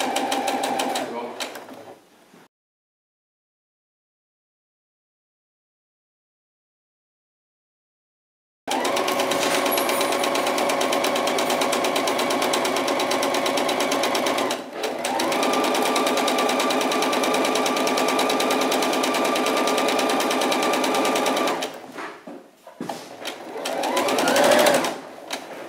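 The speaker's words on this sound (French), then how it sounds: "On coud dans un premier temps la bretelle à 1 cm du bord." A sewing machine stitches a bra strap 1 cm from the edge, running in a steady loud whir, pausing in silence, then sewing continuously for a long stretch with a brief break and a French-speaking voice nearby.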